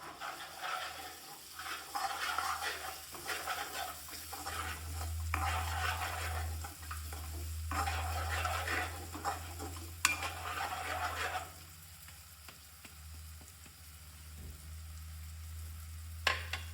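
Spiced curd with coriander-cumin powder, garam masala and salt being stirred in a pan, making soft, repeated scraping strokes in several bursts over a low sizzle and steady background hum, with a quieter stretch near the end.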